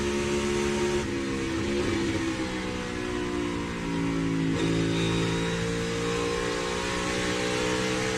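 A NASCAR Cup car engine drones loudly and continuously as it accelerates, with pitch dips where it downshifts through a corner, recorded onboard.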